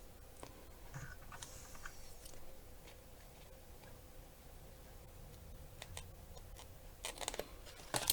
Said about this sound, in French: Et là, on va couper. Couper ce qui dépasse.